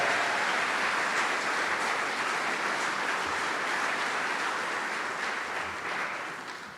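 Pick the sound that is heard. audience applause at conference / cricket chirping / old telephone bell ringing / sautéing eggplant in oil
audience applause at conference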